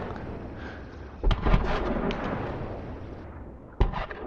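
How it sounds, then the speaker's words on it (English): Cannon fire in the pirate video game Sea of Thieves, one heavy boom followed by rumbling and a second sharp blast near the end, moderately loud and distant. "I'm just hearing cannon shots."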